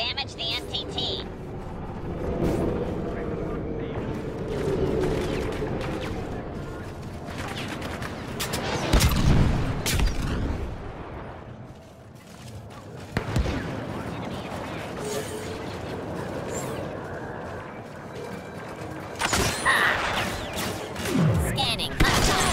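Blaster fire and explosions rake an MTT during a Star Wars Battlefront 2 battle, with irregular bursts and thuds over mechanical rumble, while voices talk through much of it.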